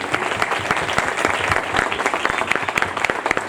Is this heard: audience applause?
yes